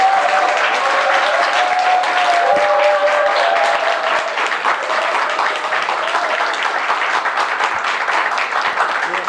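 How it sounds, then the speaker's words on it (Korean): An audience at a book concert gives a long, loud round of applause as guests are called to the stage, dense steady clapping throughout, with a faint voice briefly audible under it. "그래서 어느 때보다 여러분의 큰 박수가 필요한 분입니다."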